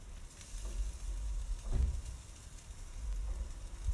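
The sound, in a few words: asparagus placed on a hot grill, sizzling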